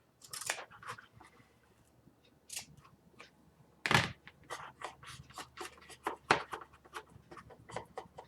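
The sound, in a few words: scissors cutting bookbinding material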